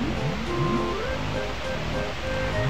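Steady rushing water in the Banjo-Tooie video game, a continuous wash of wave noise under background game music, with no talk.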